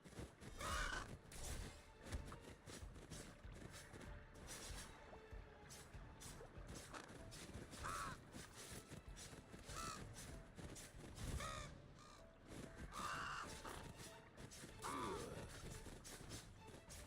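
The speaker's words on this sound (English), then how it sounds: "These birds are so annoying." Crows in the Ashes of Creation video game caw in repeated harsh bursts over a busy ambient backdrop, some calls close and others farther off, spread across the scene.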